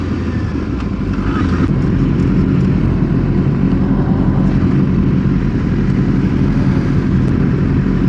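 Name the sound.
group of motorcycles riding, including Kawasaki ZX6Rs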